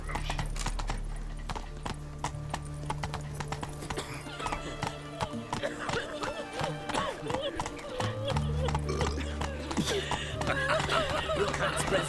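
Roach, the horse in The Witcher 3 video game, gallops with rapid rhythmic clip-clop hoofbeats, now and then a whinny, while voices talk over it.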